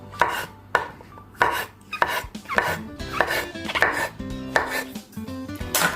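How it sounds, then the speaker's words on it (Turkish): Steady rhythmic knife chopping of mushrooms on a cutting board, sharp regular thuds repeating close by with no talking. "Ve pek tabii ki mantarlarımı da doğruyorum"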